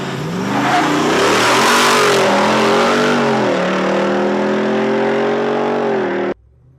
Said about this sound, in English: That growl, that engine note, that was sweet.